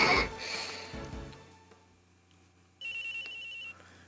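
A telephone rings with a bright electronic ringtone in one sustained burst near the end, following breathy vocal sounds and quiet room noise.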